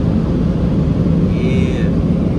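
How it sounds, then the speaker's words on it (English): Car wash blow dryers roar steadily along the sides of a car, a dense, unbroken rushing blast of air that stays loud and even throughout. "So we're gonna get the sides blown. See all that? They're blow dryers."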